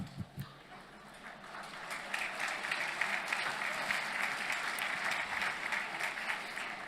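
Sustained audience applause fills a hall during a political speech at a formal dinner event, a steady dense clatter of many hands clapping throughout, with a few sharper claps at the start.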